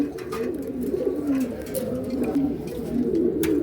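Pigeons coo steadily at a pigeon seller's stall, a soft continuous burbling from several birds close by with a few brief higher chirps over it.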